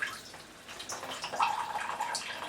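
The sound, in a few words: cooling water flowing out of water block tube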